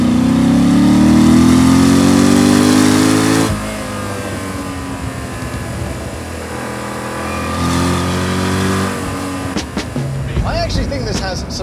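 A sports car engine, one of a Porsche Cayman S, Corvette Z06 or BMW Z4M, revs hard and loud and climbs in pitch, then drops to a lower drone and builds again before fading into lighter mechanical noises.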